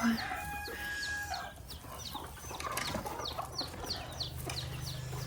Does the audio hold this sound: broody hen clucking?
yes